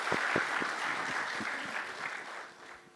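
Brief welcome applause for panelists at a startup funding session, a small audience clapping close by, loud at first and fading over three seconds.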